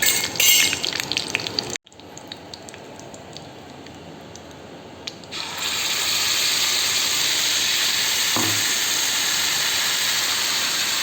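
Curry leaves hit hot oil in a tempering for kadhi; the oil hisses and crackles, starting sporadic, then surging into a loud, steady sizzle partway through.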